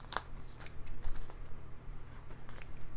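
Scissors snip through clear plastic, trimming around the inside of a heart shape for a handmade shaker card, with a sharp opening snip followed by quieter cutting and rustling, close and alone without talk.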